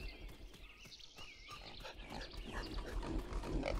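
Pigs grunt and snort in a spooky video game, a run of short rough oinks close up and fairly faint, rising toward the end over a low game background.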